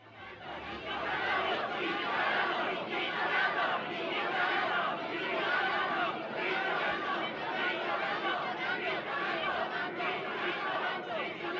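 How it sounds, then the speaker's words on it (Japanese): A large crowd in the Tales of Berseria video game roars and cheers at a grand ceremony, a dense, loud, continuous wash of many voices that holds steady throughout. "すごい歓声じゃな"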